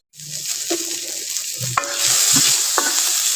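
Garlic and green and dried chilies sizzle loudly in a hot pan, a steady hiss with occasional scraping stirs, close up and without talk.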